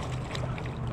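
A boat passes close by on the water near Barnegat Light, New Jersey, during a fishing outing, giving a brief, steady rush of engine and water noise.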